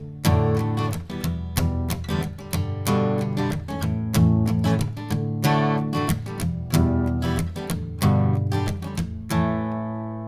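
Acoustic guitar strummed in a steady down-up pattern, open chords ringing with crisp rhythmic attacks, close and loud, played alone with no voice.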